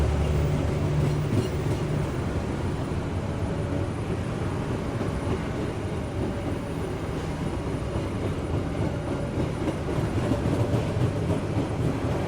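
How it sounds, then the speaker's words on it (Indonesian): The Kertajaya passenger train at Bekasi station gives a continuous, loud low rumble with broadband rail noise throughout, steady and enveloping, with no speech. "Kereta api Kertajaya sudah tiba di stasiun Bekasi."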